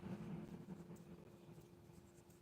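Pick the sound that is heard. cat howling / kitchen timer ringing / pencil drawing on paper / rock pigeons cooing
pencil drawing on paper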